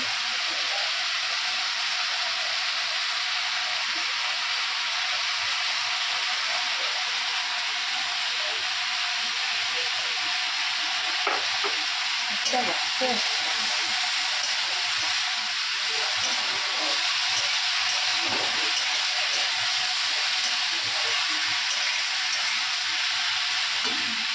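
Mustard paste frying in a pan in a home Bengali kitchen, a continuous close sizzling hiss with occasional soft stirring and clinks throughout.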